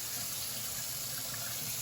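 A kitchen tap runs very hot water into a sink during dishwashing, a steady close hiss of flowing water that stays level throughout with no talking.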